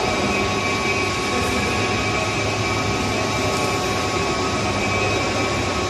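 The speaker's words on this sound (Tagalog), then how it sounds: "Yan na, McLaren engine." A McLaren car engine running steadily, a loud, continuous mechanical roar with a constant hum and no talking.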